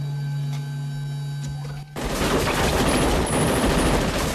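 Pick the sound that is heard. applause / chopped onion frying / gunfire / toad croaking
gunfire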